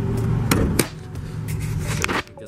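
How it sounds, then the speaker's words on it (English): The hood of a 2020 Dodge Durango R/T with a 5.7 Hemi being popped open: a few sharp metallic clunks and latch clicks close up, followed by a softer thud as the hood lifts. "let me just pop the hood for you guys real quick."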